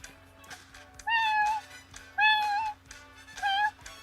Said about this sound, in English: This is my cat, Boogie, Boogie Woogie.